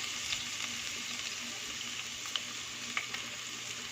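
About three garlic cloves frying in hot oil, a continuous close crackling sizzle with occasional sharper pops, no voices.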